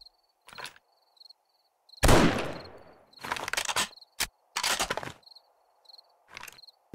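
Hunting rifle shots in the video game 7 Days to Die, loud sharp cracks with a ringing tail followed by several shorter bursts, set against a steady chirping of crickets in a quiet night.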